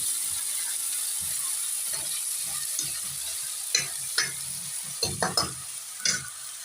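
Vegetables and spices, including chili powder, turmeric and a spoonful of MDH masala, cook in a pan with a steady close sizzle, while stirring adds a run of clinks and scrapes toward the end.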